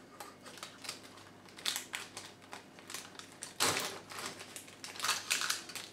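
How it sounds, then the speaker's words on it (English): Latch pulled back and a connector unplugged from the circuit board of a Candy or Hoover washing machine: a run of sharp plastic clicks and scrapes, close and crisp, with one louder snap midway. "you do need to pull the latch back before you can actually unplug it"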